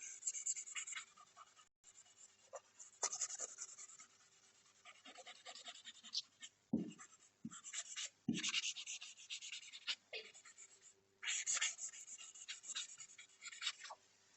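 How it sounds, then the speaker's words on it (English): Pencil graphite rubbed and smudged across sketchbook paper with a finger or paper towel, giving a close, dry, scratchy rasp in repeated strokes with short pauses between them, no talking. "I am going to do a rub."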